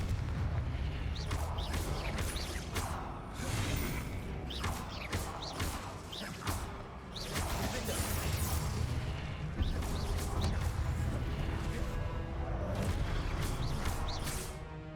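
Repeated spell-blast explosions in a wizard video game, a dense run of booming bursts and crashes with sharp transients, loud and continuous across the whole stretch amid game effects.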